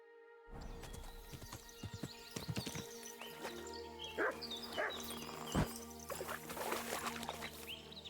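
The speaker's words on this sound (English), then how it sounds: "Wild dog still chasing me?" Wild dog chasing the player in Final Fantasy XIV, with barks and yips among galloping hoofbeats and game sounds, busy and close.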